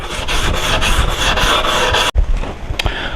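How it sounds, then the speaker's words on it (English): Iron-on edge banding sanded by hand with 220 grit sandpaper, a loud, steady rasping rub with rhythmic strokes close up, then a brief pause and a couple of lighter scrapes. "I'll just use some 220 to sand this off."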